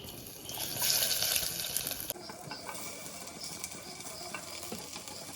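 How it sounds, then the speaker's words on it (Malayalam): Onions and tomatoes sizzle and hiss in a hot pan with stirring scrapes, loudest at first then settling to a steady, gentler crackle. "നമുക്ക് ഉള്ളിയും തക്കാളിയും ഒക്കെ വയറ്റാൻ ഇട്ട് കൊടുക്കാം"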